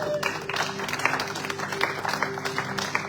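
Church congregation at an Easter prayer vigil clapping to acclaim the Lord, a dense, lively burst of applause close by with crowd voices mixed in.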